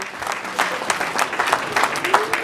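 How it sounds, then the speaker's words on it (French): Guests at a 60th birthday party in Montreal clap loudly together, a lively, uneven patter of many hands with a few voices mixed in beneath the applause. "On applaudit très fort s'il vous plaît"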